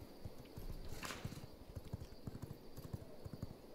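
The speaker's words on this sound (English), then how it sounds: "That is one nice horse." Horse hooves clip-clopping in the V Rising video game, a quick steady rhythm of close, distinct hoofbeats at a fast gait, moderately quiet with no talk.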